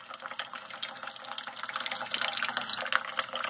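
Tap water runs into a Brita filter pitcher, a steady splashing stream with small drips and gurgles, close and fairly quiet, with no one speaking.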